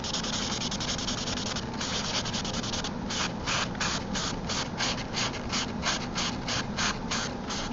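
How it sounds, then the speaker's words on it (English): A glass sample is hand-sanded in steady rhythmic strokes, close and continuous with a gritty scraping texture and no talking. "just continue to sand this"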